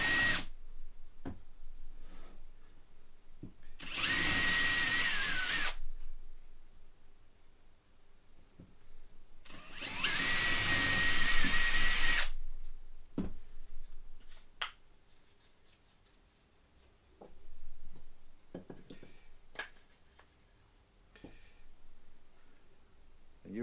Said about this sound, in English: you want to be drilling in the centre of there, so you're going into the centre of the MDF